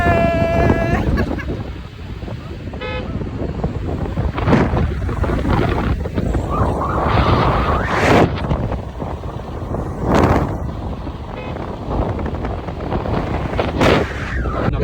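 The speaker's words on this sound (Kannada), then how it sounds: "ಸಿಕ್ಕಾಪಟ್ಟೆ ಗಾಳಿ ಬಂತು" Strong wind roars through the open sunroof of a moving car at night, a loud, steady buffeting rush with gusty swells throughout, no voices.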